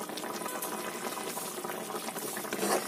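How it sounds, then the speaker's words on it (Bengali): A pot of curry with coriander leaves bubbles at a steady boil, a dense continuous wet crackle and pop with no voices, swelling slightly louder near the end. "এবার এটা একটু ফুটে যাক"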